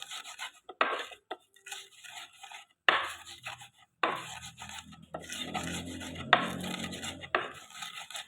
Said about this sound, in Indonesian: kita akan menghaluskan bawang merah dan bawang putih sampai halus